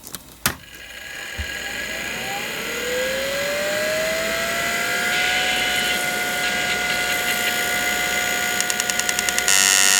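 A hard drive running a seek test: a mechanical whir rises in pitch and settles into a steady whine, with a few sharp clicks near the start and rapid ticking toward the end, sounding rough.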